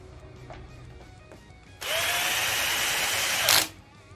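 Tramontina cordless drill driving a large screw into wood, a loud steady whir of nearly two seconds that ends with a brief rise, then stops, heard close up without talking.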